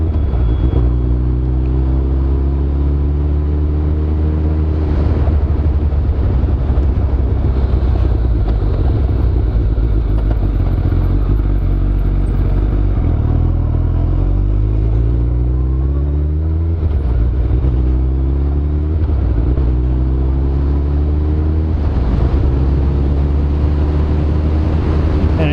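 A first-generation Suzuki Hayabusa motorcycle engine idling with a deep steady rumble, then revved several times in rising and falling sweeps, loud and close, with no talking.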